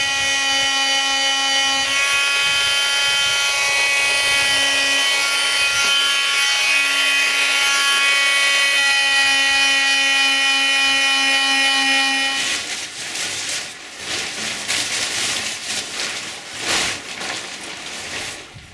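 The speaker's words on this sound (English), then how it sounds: "The delamination on the deck gets sanded." Steady, loud power sander grinding across a delaminated boat deck on a chilly day, a continuous whining drone with tonal harmonics, then rougher, uneven scraping as the sander shifts or stops.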